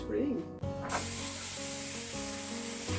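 An airbrush sprays bath bombs in a steady, continuous hiss that starts abruptly after a brief click and carries on evenly, close by.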